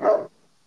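A single short dog bark, quick and fairly close, followed by silence.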